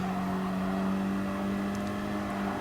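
Audi race car engine in Gran Turismo Sport on the Nürburgring, a steady, sustained drone at high speed with no gear changes, loud and constant throughout, with no voices.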